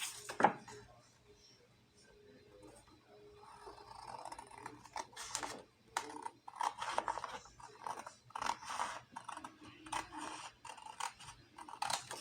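Scissors snip through paper for a junk journal, giving short crisp cuts and rustles in bursts, close and quiet, with someone talking softly at times.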